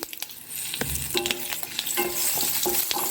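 A tempering of green chili and curry leaves, with mustard seeds and urad dal, crackles and sizzles in hot oil, loud and close, with sharp pops and a scraping stir.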